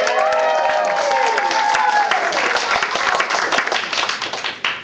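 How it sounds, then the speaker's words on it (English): An audience at a coffee house live performance cheers and applauds loudly, dense clapping mixed with whoops and shouts, sustained throughout and tapering slightly at the end. "the audience will erupt in cheers and applause like this"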